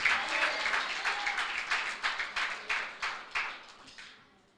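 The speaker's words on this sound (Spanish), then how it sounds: "Denle un aplauso al Señor, por favor." A church congregation applauding, a dense, steady wash of clapping with a pulsing rhythm that fades out over a few seconds.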